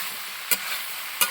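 Vegetables being stirred in a pan for a mixed vegetable kurma, with two brief scraping strokes over a steady sizzling hiss.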